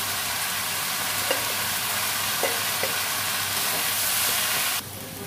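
Cabbage frying in spiced masala in a pan, a continuous dense sizzle and hiss with a few faint clinks of a utensil, steady and close, cutting off abruptly near the end.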